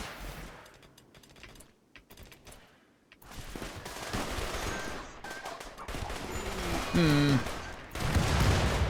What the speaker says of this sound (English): we're going to be testing out the shiny new suppressor cannons today